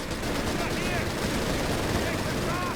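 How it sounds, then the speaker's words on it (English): Light machine gun fire in the Company of Heroes 3 video game, dense continuous rattling bursts filling a busy battle soundscape, heard under a commentator. "Light machine guns going all over the place there."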